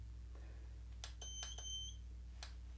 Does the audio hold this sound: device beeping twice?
yes